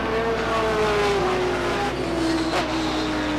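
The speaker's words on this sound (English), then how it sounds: "Spin into turn one. Bobby Libby gets the car looped." A race car at Beech Ridge Motor Speedway spins out in turn one, its tires skidding and squealing under the steady roar of engines for several seconds, loud and fairly close.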